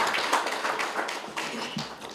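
A round of applause from an audience at a corporate stakeholders presentation: a short spell of mixed clapping and taps, moderately loud and close, irregular in rhythm, with no speech.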